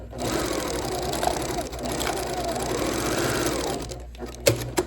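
Close, steady whirring and rapid clatter of a sewing machine stitching around a twist quilt block, running continuously before stopping with a couple of soft knocks at the end.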